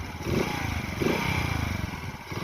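A Chinese moped engine runs close by, a steady buzzing putter with two brief throttle blips, rough and continuous throughout with no voices.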